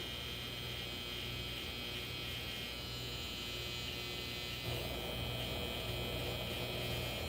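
Electric hair trimmer buzzing steadily and close, a continuous motor hum with a slight shift in tone partway through, with no talking.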